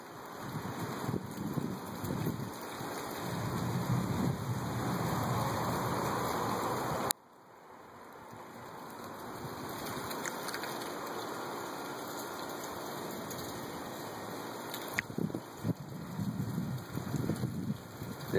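A rain shower falls outdoors under a dark, rotating sky, a steady soft hiss with gusty wind buffeting the microphone, cut by a brief drop in level partway through before the wash of rain resumes.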